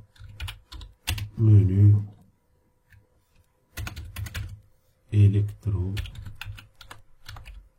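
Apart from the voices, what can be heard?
typing a label name on a computer keyboard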